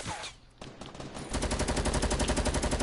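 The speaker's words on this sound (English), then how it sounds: "I got, oh crap, I'm getting shot at!" Rapid video game gunfire with a minigun, a sparse burst of shots giving way after about a second to a loud, continuous, steady stream of machine-gun fire.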